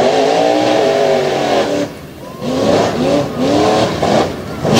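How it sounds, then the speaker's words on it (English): Engines of off-road trucks, including a Ford Ranger, roar and rev hard during unlimited tough truck racing at a county truck fest, a loud sustained whine with a brief dip before surging again. "Mountain Creek Truck Fest presents Unlimited Tough Truck Racing now."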